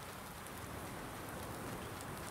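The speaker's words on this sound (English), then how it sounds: "All right, so we're getting rained on here." Rain falling steadily in a farming video game on the Autumn Oaks map, a soft, even hiss of raindrops with no speech over it.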